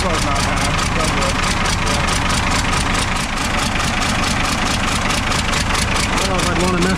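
A turbocharged engine with a hole blown in the turbo idles while warming up, giving a steady, loud, dense rumble with a fast regular pulsing that runs unbroken throughout.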